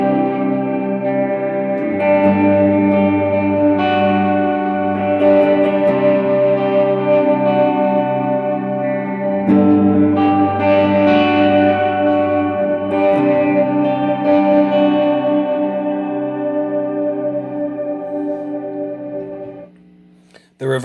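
Electric guitar played through an effects pedal with a halo setting turned up, giving sustained chords and notes with a shimmering, echoing wash that swells and rings out throughout.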